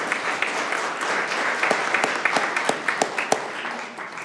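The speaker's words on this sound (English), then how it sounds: "You can clap for him right now." An audience at a county board of commissioners meeting applauds during an award presentation. Steady clapping from a modest crowd rises to sharper individual claps near the end, then fades.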